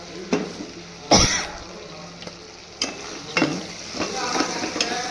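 Masala stirred into frying oil and cooked meat pieces in a pan: a steady close sizzle with several sharp stirring scrapes, and a brief throat clear partway through.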